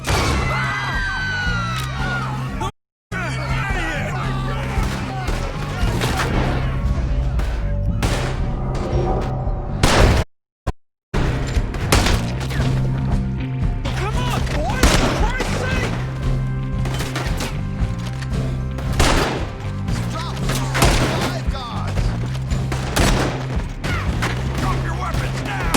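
A loud, continuous gunfight in Red Dead Redemption 2, with dense volleys of shots and bangs over a rumbling low backdrop that barely drops out, with voices mixed into the chaos.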